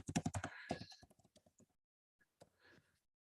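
Close, quiet keystrokes on a computer keyboard come in a quick burst of clicks, then a pause, then a few scattered taps. No one speaks.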